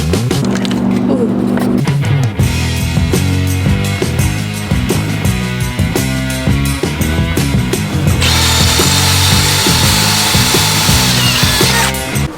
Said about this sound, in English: There's more drilling.